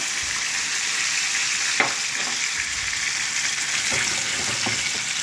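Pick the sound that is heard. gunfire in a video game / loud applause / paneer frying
paneer frying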